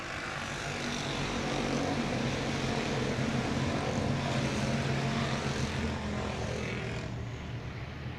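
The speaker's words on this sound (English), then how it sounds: "Coming out of 3 and 4. Hear the engines roar." Stock car engines roar together at a restart on a short oval speedway, a loud, dense, sustained drone that holds steady for several seconds and eases slightly near the end.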